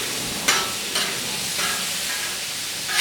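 Shrimp fry in a hot pan with a steady loud sizzle, broken by a few sharper flips and stirs, with no talking.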